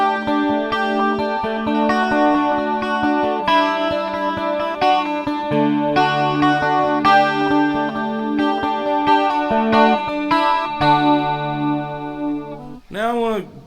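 A 12-string guitar played through a chorus effect, ringing shimmering chords and single notes with a steady pulsing rhythm, loud and close, ending in a swooping warble.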